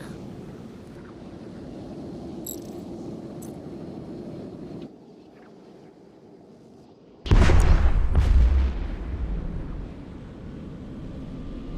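A Drake spaceship explodes in EVE Echoes with a sudden loud, deep boom partway through, following a steady engine hum and a brief quiet gap. A rumbling roar trails off into background drone.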